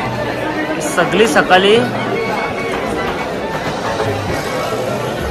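Busy crowd chatter fills the CST fish market in Mumbai, a dense babble of many voices with a few louder calls rising near the middle, steady throughout.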